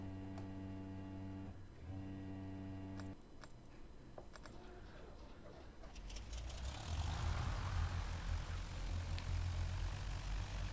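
A Carenado 152II light propeller aircraft engine starts up in a flight simulator: a steady tonal hum, a few clicks and a starter whir, then the engine catches and builds into a louder broadband propeller drone that holds.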